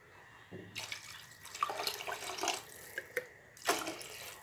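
Tap water runs into a pot while cooking, splashing and trickling unevenly with small drips, fairly faint and close, with no talking.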